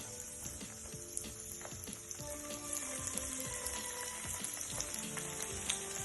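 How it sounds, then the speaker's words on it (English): Breadfruit balls bubble and crackle in a pot of hot oil, a continuous close sizzle with frequent small pops and occasional utensil clinks, no speech. "once your oil is hot, what you wanna do, you wanna go ahead and add your breadfruit balls"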